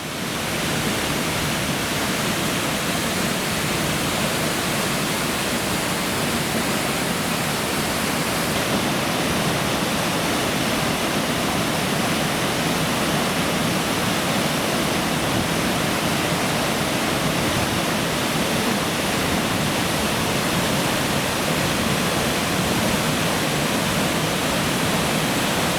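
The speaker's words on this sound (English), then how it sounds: "And there's Glen Aulin Falls." Glen Aulin Falls on the Tuolumne River, a steady, loud roar of falling water that fills the scene without pause, broadband and unbroken like close white noise.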